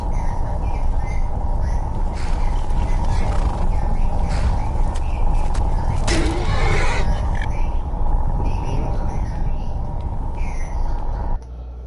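A horse in a video game's Soul Cairn area gives a loud whinny over a constant droning background hum, the neigh rising briefly in the middle, with other game sounds scattered around it and a faint voice in the mix.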